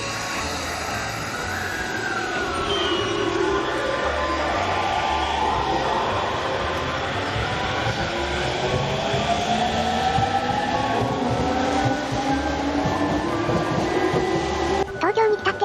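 A Yamanote Line train in Tokyo rumbles steadily close by, with rising and falling electric motor whine over continuous wheel and track noise, loud throughout and ending with a few clunks.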